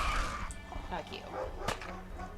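Dogmeat, the canine companion in Fallout 4, gives short yips and whimpers amid game noise, with someone talking over the clip.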